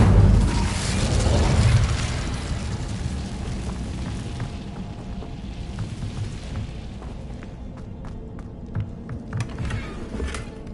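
Incendio fire spell cast in the Hogwarts Legacy video game, a deep whooshing boom that swells early and fades into crackling and faint ticking effects, with no talk.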